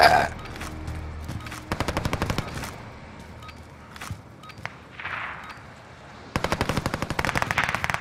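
Oden assault rifle fire in Warzone comes in rapid automatic bursts, loud and close, with sharp repeated cracks separated by quieter stretches of ambient game sound.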